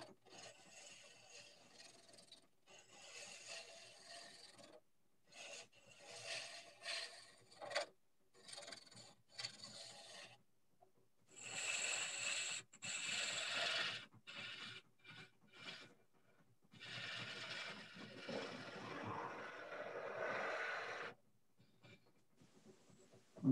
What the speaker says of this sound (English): Yes, this is the roughing gouge right now.